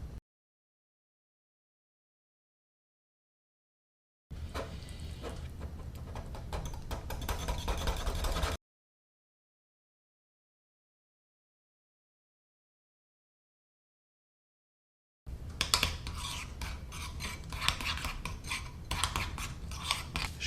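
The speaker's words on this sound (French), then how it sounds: "ciseler finement les herbes" Herbs are finely snipped for a homemade sauce, a fast run of crisp scissor snips and rustling that comes in two bursts separated by long silence.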